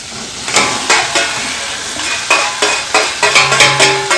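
Half-cooked eggplant gets stirred into a spice mix in a hot pan for baingan bharta, with a spoon scraping in repeated strokes over a steady sizzle, close and loud, strokes quickening toward the end.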